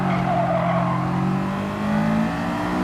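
Honda S2000 in Gran Turismo 7 climbing uphill on Grand Valley Highway, engine holding a loud, steady high-revving drone with rising and shifting pitch, tires squealing under load, no voices.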